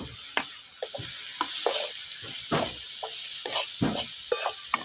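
Ground pea paste frying and being stirred in a pan over a wood-fired clay stove, with steady sizzling and repeated scraping strokes of the spoon at close range; no one speaks.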